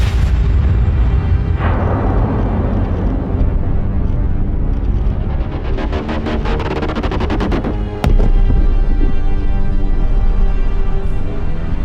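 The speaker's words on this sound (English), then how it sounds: "This triggers a titanic explosion that blasts the star's outer layers into space" A deep, roaring explosion of a star blasting its outer layers into space rumbles continuously, loud and heavy, with a sharp crack near the end before the roar continues.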